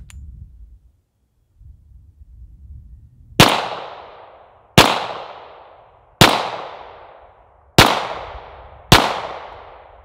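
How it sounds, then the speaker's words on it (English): Five loud, sharp pistol shots from a Springfield 1911 Range Officer fired at 7 yards on a range, spaced roughly a second or more apart, each with a brief ringing decay, after a quiet lead-in. "So let's do some shooting. We're going to be 7 yards."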